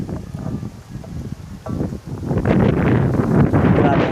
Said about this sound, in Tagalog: Grabe hangin dito kasi open air to eh.